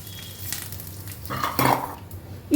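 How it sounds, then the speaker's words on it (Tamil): Spices crackle and sizzle in hot oil, a soft hissing fry with a few light clinks of a utensil against the pan. "1 டீஸ்பூன் பெருஞ்சீரகம், 1 டீஸ்பூன் நார்மல் ஜீரகம், இதை தாளிக்கலாம்."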